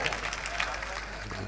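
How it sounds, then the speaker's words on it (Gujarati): An audience claps to welcome a singer at a Mahashivratri folk music gathering. The brief, moderate applause is mixed with crowd noise and a voice talking over it. "તાળીઓથી અને વધાવો"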